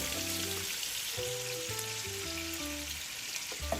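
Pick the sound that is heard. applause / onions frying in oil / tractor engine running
onions frying in oil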